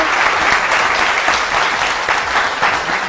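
Studio audience on a Pakistani entertainment show breaks into steady, loud applause, a dense uninterrupted patter of many hands clapping for the whole stretch.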